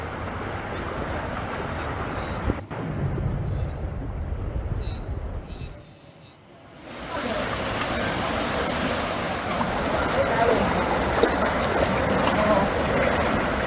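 Floodwater rushing through a river swollen enough to spill into homes, with debris clogging a bridge, gives a steady broadband roar throughout, dipping briefly midway before returning at full strength.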